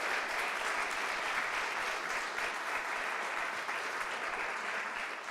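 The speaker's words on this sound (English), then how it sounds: "Let's have another round of applause for Sebastian." Keynote audience applauding a speaker at an evening event in Hollywood, a full, sustained roar of clapping from a large crowd that stays steady and loud throughout with no voices over it.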